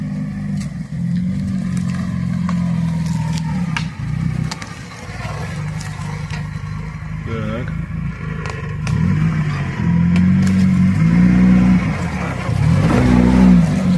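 An Opel Frontera SUV labours up a steep off-road climb during a circuit race near Kyiv, its engine droning loud and close with repeated revving surges and some clattering toward the end.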